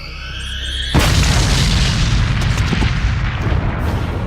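A swallowed bomb explodes in a motion comic with a single sudden, loud boom that cuts off quieter tonal sound and rolls into a long, dense rumble lasting several seconds.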